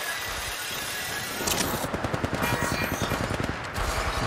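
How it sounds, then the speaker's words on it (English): Rapid automatic gunfire in the mobile battle royale game Apex Legends Mobile, starting after a quiet moment as a dense, loud burst of fast, evenly spaced shots lasting several seconds, with no voices. "Opening fire on the enemy."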